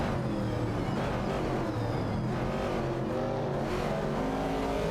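Classic Chevrolet Camaro race cars in a racing video game roar steadily with engine revs and passing whooshes, a dense continuous car noise with no voices over it.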